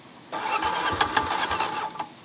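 A Kawasaki KLX 250 dual-sport motorcycle's engine cranks and fires up close by, then runs with an uneven, pulsing single-cylinder beat.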